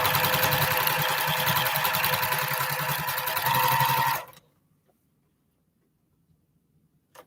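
A sewing machine with a walking foot stitches a quarter-inch seam on a quilt strip for postage stamp blocks, running as a steady, fast, loud mechanical chatter for about four seconds before stopping abruptly into near silence.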